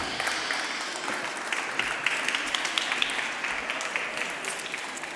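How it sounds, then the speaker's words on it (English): Audience applause welcoming chess grandmaster Judit Polgar at a talk, a steady wash of many hands clapping, moderately distant and even for a few seconds. "Big applause for her."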